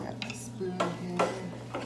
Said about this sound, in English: Mixing it up a little bit.